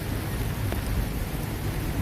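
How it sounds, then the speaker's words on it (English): Rain comes down all around in Golden Gate Park, an unbroken hiss of falling drops at a constant level, filling the space with no talking over it. "you can still hear the rain just coming down all around us."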